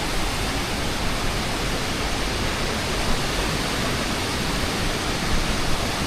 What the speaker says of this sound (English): Wow, a big waterfall.